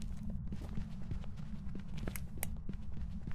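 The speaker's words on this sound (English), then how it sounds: "I can hear its footsteps" Ghost footsteps in the horror game Phasmophobia thud in a steady, repeated rhythm of soft knocks over a low, constant background hum.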